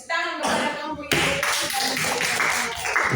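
A classroom audience claps for a student group after its presentation, a short burst of many hands that starts after a brief moment and continues evenly and fairly loud to the end.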